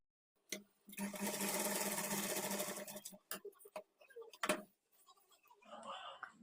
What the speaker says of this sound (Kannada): ಈ ಥರ ಕ್ರಾಸಸನ್ನು ಆಪೋಸಿಟಲ್ಲಿ ಇಟ್ಕೊಂಡು ಕಾಲು ಇಂಚ್ ಮಾರ್ಜಿನ್ಗೆ ಸ್ಟಿಚ್ ಮಾಡ್ಕೊಳ್ಬೇಕು